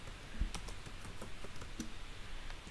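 Quiet keystrokes patter on a computer keyboard in an irregular stream of light clicks, close and soft with no talking.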